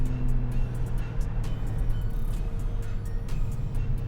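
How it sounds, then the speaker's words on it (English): Porsche 911 Turbo S (991.2), 2017, idling and rumbling at close range with low exhaust burbles and a steady engine drone, sprinkled with small pops and crackles. "I just love the back burbles these things make."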